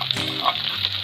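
Onion sautéing with garlic paste in a pan for a mutton and capsicum curry, a brief steady sizzle with light stirring, no voices.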